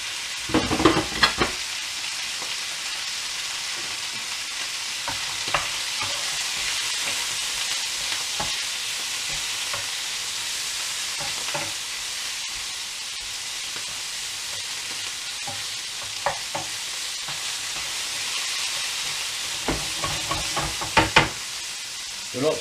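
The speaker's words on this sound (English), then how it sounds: "We just want to sear the beef." Beef sears in a hot pan for a steak and ale pie, giving a continuous close sizzle with occasional clicks from stirring or turning.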